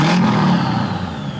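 An LMM Duramax diesel pickup engine with 440,000 miles revs steadily up close, with a continuous low rumble and whirring that eases slightly toward the end.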